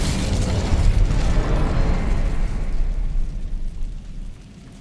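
The Incendio fire spell cast in Hogwarts Legacy, inside a cavern, produces a loud, rumbling roar of flame that holds steady for several seconds and then fades away, with no talking.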